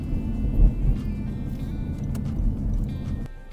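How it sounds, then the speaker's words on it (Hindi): A car rumbles low and steady as it is driven slowly into a garage, with a muffled engine hum, a couple of soft thumps and faint clicks before it cuts off near the end. "अभी जनाब वो गैराज का डोर ओपन कर रहा है और ये गाड़ी को अंदर लेके जाएगा"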